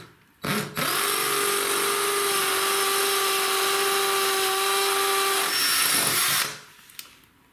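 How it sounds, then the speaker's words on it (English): A hammer drill bores into masonry while a skirting board gap is being fixed, a loud continuous whine with a steady rattling hammer action. It runs for about five seconds, then stops abruptly. "I'm going to change my drill so it's on the hammer action now to go into the masonry"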